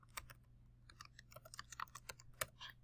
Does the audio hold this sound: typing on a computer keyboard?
yes